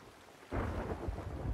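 A thunderstorm at sea in the video game Sea of Thieves breaks out suddenly as a loud, close rumble of thunder with rain noise that fills the rest of the moment after a brief quiet start.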